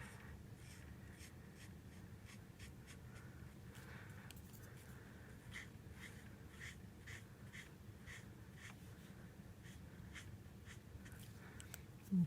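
Pen or pencil colouring on a paper card, a soft continuous scratchy scribbling texture with short repeated strokes, quiet and close, with no voices.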